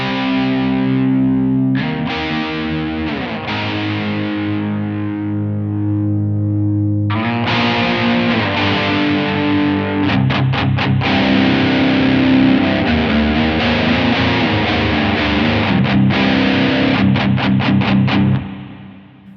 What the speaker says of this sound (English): now we're gonna go to the crunch mode